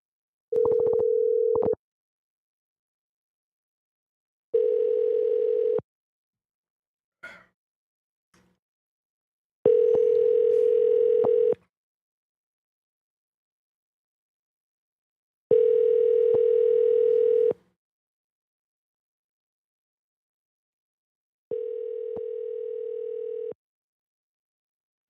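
An unanswered outgoing phone call to a tenant, with a steady ringback tone sounding in five evenly spaced, loud bursts of about two seconds each, separated by silent gaps, plus a faint click midway.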